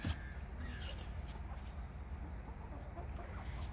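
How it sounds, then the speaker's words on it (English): Soft clucking from a rooster in a noisy outdoor setting, low steady background rumble throughout with faint scattered calls. "there's our proud male rooster"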